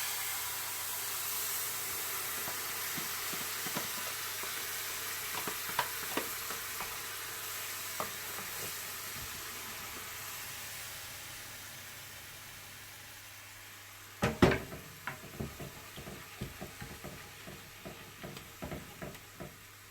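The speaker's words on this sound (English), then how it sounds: "I'm going to add now my coconut milk" Coconut milk going into a pan of vegan lentil curry, a quiet steady sizzle with soft scattered stirring clinks that turn sharper and busier after a sudden pour-in splash near the end.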